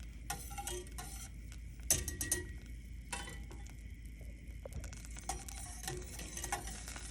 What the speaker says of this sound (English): Now I am going to continue to stir with my whisk until the butter turns brown.